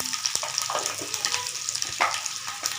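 Garlic with chana dal sizzling and frying in hot oil in a pan, a steady close crackle with occasional stirring scrapes and no talking.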